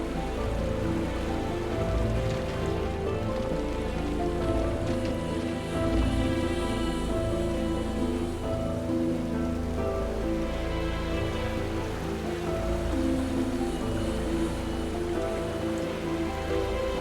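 Steady rain falls in the Bavarian Alps, a dense, even hiss of drops on rock and ground that stays close and unbroken, with no voices.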